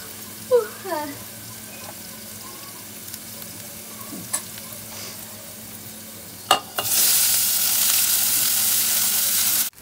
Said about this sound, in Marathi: आणि आता फोडणीला टाकायचे